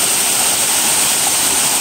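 A waterfall at an outdoor spot chosen for shooting a Ganpati devotional song, heard as a steady, loud, unbroken rushing roar with no voices.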